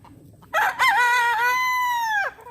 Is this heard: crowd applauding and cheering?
no